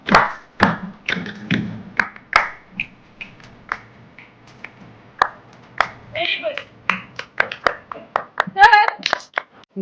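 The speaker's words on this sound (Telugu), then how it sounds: "క్లాప్ చేయండి bro clap everybody children clap" Hands clap in loose, uneven bursts during a lively interview, with sharp claps scattered among chatter and laughter and a quicker flurry near the end.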